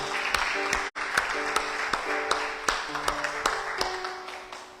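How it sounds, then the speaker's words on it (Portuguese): A church congregation claps during a service, fairly soft and scattered, with sustained music or organ tones behind it and a brief dropout near the start. "Aplauda o Senhor e volte ao seu lugar."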